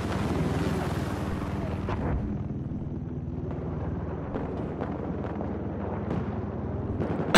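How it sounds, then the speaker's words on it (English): A helicopter in the video game Battlefield 4, a dense continuous rotor and engine roar that holds loud throughout, with sharper crackling hits on top. "Chopper!"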